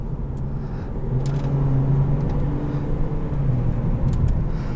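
Interior drone of a 2013 Volvo S80 T6 Inscription luxury sedan cruising on the road, a steady low engine and road rumble with faint tire noise, loud and continuous.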